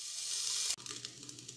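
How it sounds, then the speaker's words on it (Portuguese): Bacon fries in a heated pan with a loud hissing sizzle that cuts off abruptly, followed by quieter crackles and small pops close by; no voices. "Coloque o bacon na panela aquecida e frite."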